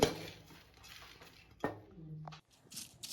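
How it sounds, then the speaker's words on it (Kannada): Roasted dried prawns are crushed on a plate, heard as a few sharp clinks and scrapes of hard utensils against the dish, close and fairly quiet, separated by short pauses. "ಇವಾಗ ಪುಡಿ ಮಾಡ್ತಾ ಇದ್ದೀನಿ"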